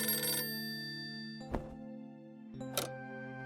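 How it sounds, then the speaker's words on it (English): Electronic telephone ringing in the Golf Story video game, sounding in three distinct bursts separated by pauses over a steady tonal background, with no one talking. "Answer the phone, dummy."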